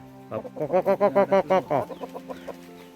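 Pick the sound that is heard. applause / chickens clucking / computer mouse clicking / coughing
chickens clucking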